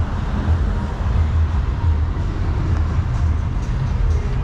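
A train at Barry Island station gives off a steady, loud low rumble and hum that holds level throughout without a clear start or stop.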